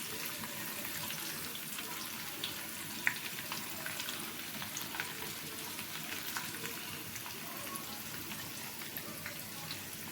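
Chopped onions hit a hot pan for a Telugu drumstick and lentil curry, giving a steady, even broadband sizzle that runs the whole time with small crackles and one brief sharp tick, no voices.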